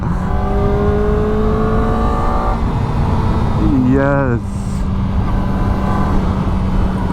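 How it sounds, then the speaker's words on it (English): A Kawasaki Ninja ZX-4RR motorcycle engine with stock exhaust drones loudly at speed, its pitch dropping and rising sharply as it shifts, with a brief spoken word and constant wind rush. "Listen to that. Oh, just imagine once she gets her exhaust on."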